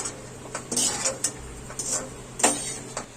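Roasted chana dal scraped out of a pan onto a plate, a series of light metallic clinks and scrapes of a spoon against cookware, irregular and close, with no voices.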